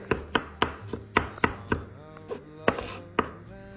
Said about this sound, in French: Donc, du coup, tu vas les couper en petits bouts